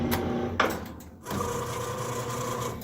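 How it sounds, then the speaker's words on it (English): The motor-driven blade of a Guillotine EC19 PRO V2 cutter raises back up with a steady mechanical whir. The drive briefly pauses with a clunk, then resumes a close, even hum. No one speaks. "I'm going to reverse the blade back up."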